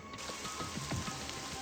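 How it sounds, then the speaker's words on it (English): Rain patters steadily indoors in the Super Danganronpa Another 2 video game, a continuous soft hiss with faint scattered drops, low and even throughout. "It's raining inside again."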